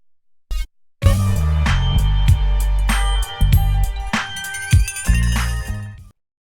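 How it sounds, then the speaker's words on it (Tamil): A melodic phone ringtone plays loudly in GTA San Andreas, bright tones over a deep bass line running for several seconds before cutting off, with no talking over it. "அவனுக்கு ஒரு ஃபோன் கால் வருது"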